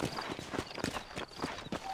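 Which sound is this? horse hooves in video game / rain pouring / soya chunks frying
horse hooves in video game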